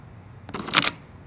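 A Fuji X-Pro2 mirrorless camera fires its shutter once, a quick, crisp mechanical click-clack heard close up in a quiet room.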